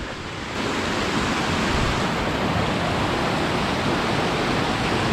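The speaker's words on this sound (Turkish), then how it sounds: "Şimdi şelalenin oraya geldim." A waterfall in the mountain village of Masuleh, Iran, roars as a loud, continuous broadband rush of falling water that swells after a moment and holds steady, with no voices.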